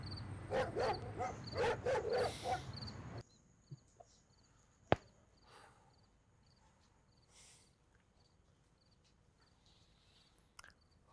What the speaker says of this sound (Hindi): वो इन वेखो क्यों भौंकदा है? भूखा तो नहीं?